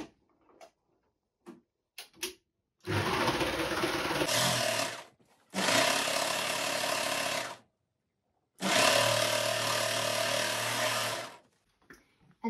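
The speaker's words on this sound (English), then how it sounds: "we're going to sew that seam" A sewing machine stitches a seam joining the right-side-together front pieces of a colorblock sweater, running in three steady bursts of several seconds each with short pauses and a few clicks between.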